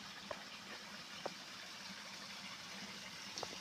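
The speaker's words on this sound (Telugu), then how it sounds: "రాళ్ళ మధ్యలో వాటర్ అనేది పోతా అంటే ఆ సౌండ్ చూడండి" Forest stream water flowing and gurgling between rocks, a steady close wash of running water with a few brief splashy accents, no voices.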